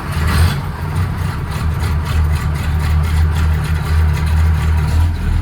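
A vintage overland truck's engine runs rough and loud just after a cold start on a wintry Norwegian trip, a steady low rumble with uneven pulsing throughout, no voices.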